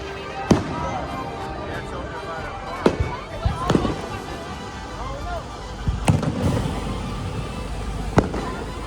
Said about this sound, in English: But the fireworks will be nice to watch.